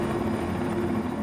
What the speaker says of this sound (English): The helicopter suddenly spins out of control and plummets to the ground.